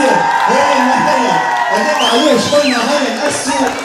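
A concert audience cheering and applauding loudly, a dense crowd roar with whoops and shouting voices layered over it, sustained throughout.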